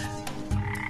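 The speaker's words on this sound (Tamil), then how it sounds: "பச்சை தவளை ஊதுனொன்னு படக்குன்னு வந்துருச்சு." A green frog gives a quick, close, throaty croak, one short burst with a deeper low pulse midway, loud and alone.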